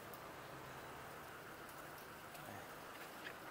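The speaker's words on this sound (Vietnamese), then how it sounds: "tại thì thời tiết trời đang mưa" Steady rain falls outdoors as a dense, even patter with occasional louder drops. It is soft and continuous, with no voices.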